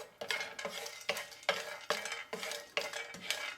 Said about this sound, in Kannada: ಇದನ್ನು ಸ್ವಲ್ಪ ಹೊತ್ತು ಫ್ರೈ ಮಾಡುವ ಹೀಗೆ